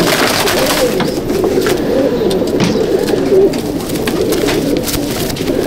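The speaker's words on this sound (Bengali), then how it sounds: "পায়রা দেখুন, প্যান্টাসের পায়রা" Pigeons coo in a loft in Howrah, with soft, throaty calls overlapping continuously at close range among rustling birds.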